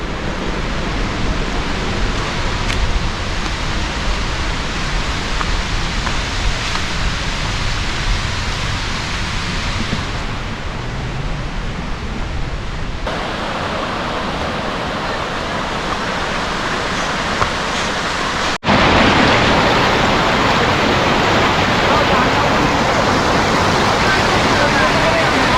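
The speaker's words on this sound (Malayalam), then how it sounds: "വെള്ളത്തിൻ്റെ സൗണ്ട് കുറച്ചുകൂടെ അടുത്ത് കേൾക്കാം." Waterfall in a forest on a hiking trail, a steady loud rushing roar of water close by that grows even louder and nearer near the end.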